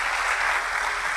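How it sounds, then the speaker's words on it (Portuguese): A church congregation at a worship service applauds a family, a brief, dense burst of clapping, loud and continuous. "Vamos aplaudir essa família."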